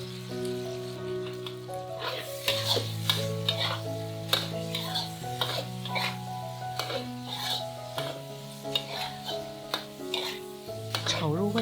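Stir-frying in a wok seasoned with salt, light soy sauce and dark soy sauce, a continuous sizzle with scraping spatula strokes over steady background music.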